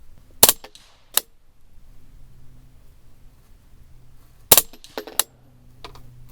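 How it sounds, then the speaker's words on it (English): Rifle shots fired while zeroing an Arken EPL-4 4-16x44 hunting scope: two pairs of sharp, loud cracks, each followed by a brief second report, separated by quiet outdoor background with no talking. "All right, let me take a shot to confirm here."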